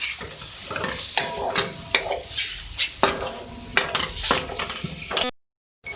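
Marinated chicken liver (kaleji) frying in a pan, with a crackling sizzle under brisk stirring and repeated spoon clacks against the metal, close and fairly loud, then a sudden brief silence near the end.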